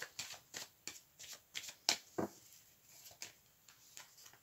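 A deck of tarot cards is shuffled in a quiet room: soft, evenly spaced card slaps and riffles recur about twice a second, close and faint, with a brief sharper snap partway through.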